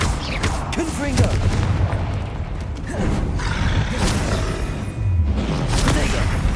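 A Confringo explosion spell goes off in Hogwarts Legacy as repeated booming blasts and whooshes amid combat, with someone shouting spell names over the clatter.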